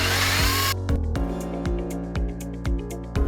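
A power drill boring holes into a wall to install a range hood, a loud whining drill burst that cuts off and is followed by a series of short, regular revving pulses.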